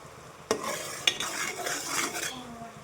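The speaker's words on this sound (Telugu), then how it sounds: "ఇలా తిప్పుకుంటూ ఉండాలి" A utensil stirs melting sugar syrup in a pan with soft scraping and a couple of sharp taps against the metal, over a faint bubbling sizzle.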